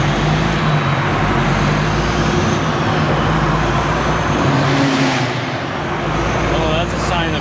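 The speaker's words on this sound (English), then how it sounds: "Stuck in this rush hour traffic." Rush hour road traffic in Houston rolls past as a steady, loud roar of cars and heavier vehicles, continuous engine and tyre noise heard close from inside a vehicle, with talking over it.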